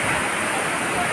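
Waterfall at Caunayan Falls in San Luis, Aurora, a steady broadband rush of falling water, loud and close, filling the whole moment without a break.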